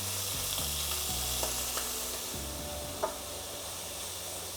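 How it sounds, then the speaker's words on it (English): Beef fries in hot olive oil in a pan for a beef and broccoli stir fry. A steady close sizzle runs throughout, with a few soft clinks and scrapes as it is moved around. "And once that gets up to temperature, we wanna start adding our beef."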